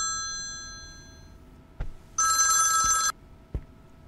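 A telephone gives a single electronic ring lasting about a second in a quiet room, with soft knocks and movement before and after it.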